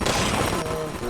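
Gunfire in the video game System Shock, dense rapid shots forming a loud continuous burst with a voice talking over it.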